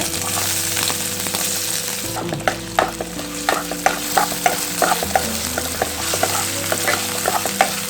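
Ginger and garlic fry in coconut oil with a loud, close crackling sizzle, punctuated by repeated clicks and scrapes of a spatula stirring in the pan. No voices.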